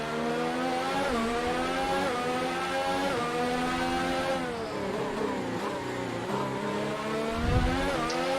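A Formula 1 race car engine in the F1 2019 video game screams continuously at high revs, its pitch dipping and climbing through gear changes and corners, loud and close with no talking.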